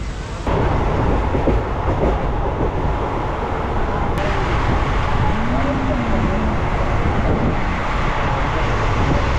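Passenger train running after leaving Bardhaman, a loud continuous rumble and rattle of wheels on rails heard from inside, with a voice speaking briefly over the noise.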